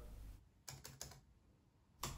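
Computer keyboard keys are struck in a few quick, close clicks: a short cluster of three or four taps, a pause, then one more tap, faint and with no voices.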